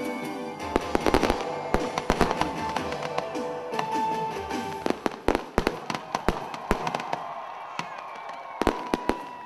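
Pyrotechnic effects crack and pop in rapid irregular bursts at a concert gala with a laser show, over a continuous wash of loud music and crowd noise, the bangs sharp and frequent throughout.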